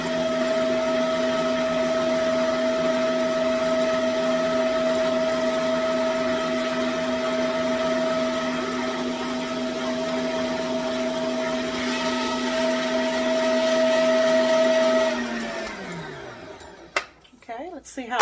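An electric stand mixer runs at full speed, beating butter and sugar, giving a steady loud motor whine with strong harmonics that holds for about fifteen seconds before spinning down and stopping.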